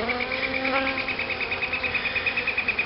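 A steady, close insect buzz from Carniolan honey bees crowding a hive frame, a continuous hum with a faint pulsing flutter throughout and no voices.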